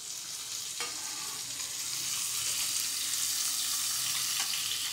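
Pumpkin and vegetables sizzle in a hot pan while being stirred, a steady close frying hiss with scraping stirs that grows slightly louder partway through.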